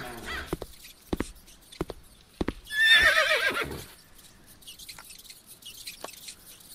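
In the Trials of Wilderness video game, a horse lets out one loud, close whinny midway, set between sparse clip-clop hoof taps and soft clicks.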